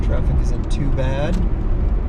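City traffic on the drive into downtown Seattle makes a steady low road rumble with a brief hiss and squeal in the middle, while someone talks over it throughout.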